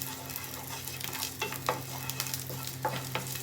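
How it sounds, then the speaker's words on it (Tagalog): Butter sizzling and browning in a pan for mushrooms, a steady close crackle with scraping stirs and brief louder spatters over a low kitchen hum. "Nasunog na ang ating butter para sa ating mushrooms."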